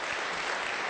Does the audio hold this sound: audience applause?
yes